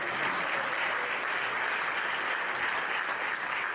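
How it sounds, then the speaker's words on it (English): Sustained applause from an event audience, a dense, steady clatter of many hands clapping at an even level throughout, with no talk over it. "Give him a round of applause"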